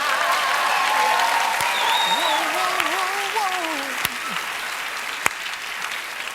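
A studio audience applauds after a joke on a comedy show, with broad clapping joined by whoops and cheers that rise and fall over it.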